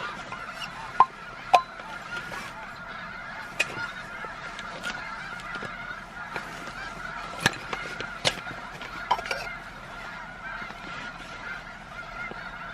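A flock of snow geese honks continuously at a distance at Bosque del Apache Wildlife Refuge, New Mexico, with scattered sharper calls and clicks standing out over the chorus.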